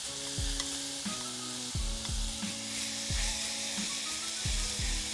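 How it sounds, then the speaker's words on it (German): Meat sears in a pan on a stovetop burner, a steady bright sizzle that fills the clip, with periodic low knocks and scrapes of stirring or utensil contact. "Nur mal ganz schnell anbraten,"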